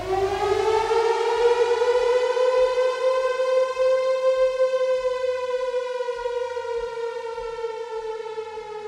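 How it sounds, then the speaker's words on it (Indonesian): An air raid siren sounds the start of the 1 March 1949 general attack on Yogyakarta, a loud wailing tone that holds steady and then slowly sags in pitch, with faint regular thumps beneath. "jam 6 pagi, 1 Maret 1949, sirene tanda serangan pun dibunyikan."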